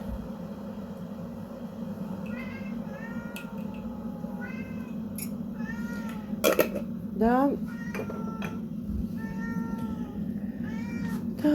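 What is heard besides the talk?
cats meowing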